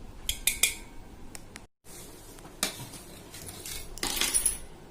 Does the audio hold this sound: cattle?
no